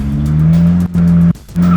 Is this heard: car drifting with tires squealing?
yes